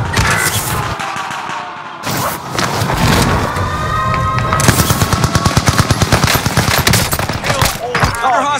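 Automatic gunfire rattles in the Call of Duty Rebirth Island game, rapid, evenly spaced loud bursts of shots following a few heavier booms, close and dominant with brief voice callouts.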